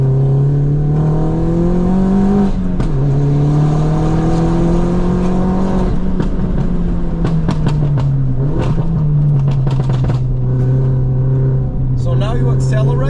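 A heavily modified Mini car engine pulls hard through third gear up a road, its pitch climbing and dipping with throttle changes, loud and close, with someone talking over it.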